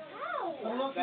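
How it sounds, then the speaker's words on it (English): A cat meows in a drawn-out, rising-and-falling call with a second wavering cry, fairly close, while a person talks. "I believe there's a cat in there."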